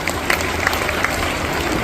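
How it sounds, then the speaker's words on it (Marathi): Applause breaks out for a boy named Varad at a prize ceremony, a steady wash of clapping from a crowd that stays fairly even and dense for the whole stretch. "चला वरद साठी एकदा जोरदार टाळ्या."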